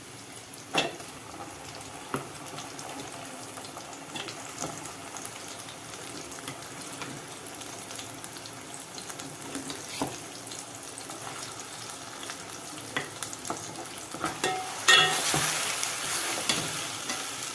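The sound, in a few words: ground masala frying for mutton curry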